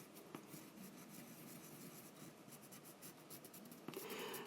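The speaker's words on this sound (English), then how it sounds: "I'm going over my darker brown here on the hair to lighten the whole" Colored pencil strokes scratch steadily over paper as darker brown is layered onto a mermaid's hair, a continuous close rubbing rasp with small bursts of quicker strokes near the end, no talking.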